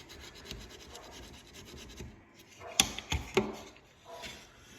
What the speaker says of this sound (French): il faudra que je gratte tout le tour comme ça